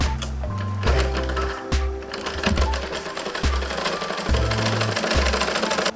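A sewing machine stitches a pillow made from old clothes, running in several close, loud bursts of rapid mechanical chatter separated by short pauses, with no talking.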